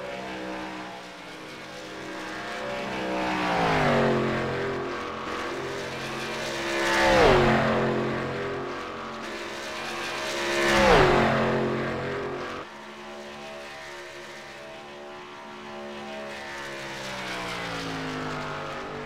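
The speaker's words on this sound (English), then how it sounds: "There's Joey Stats heading out on the track, the number 22 car." The number 22 stock car in a sim-racing game at Charlotte heads out onto the track, its engine roaring in repeated swells as it passes close by three times, with no voices.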